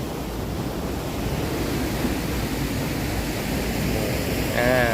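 Floodwater pours steadily over an overflow weir at Lom Kao, Thailand, making a constant, dense rushing roar close by, with a brief faint voice at the very end.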